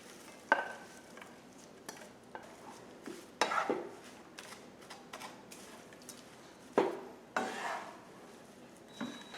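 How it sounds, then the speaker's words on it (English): Carrots and spinach cook in a tablespoon of olive oil in a pan, with a faint sizzle underneath and several sharp utensil clanks and stirring scrapes scattered through, all fairly quiet and close. "So let's cook our carrot and spinach."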